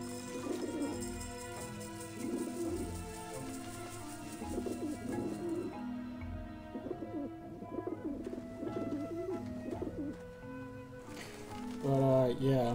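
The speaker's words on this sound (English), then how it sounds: "Back off, birds!" Pigeons coo in a loop over background music in the Grim Fandango adventure game, with a voice talking over the birds.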